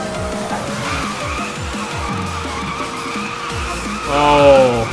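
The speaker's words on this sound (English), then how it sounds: "Oh, huge drift." Audi R8 GT Spyder drifting in the racing game Need for Speed: Most Wanted (2012), a steady engine roar under continuous tire skid and squeal, swelling louder into a sharp screech near the end.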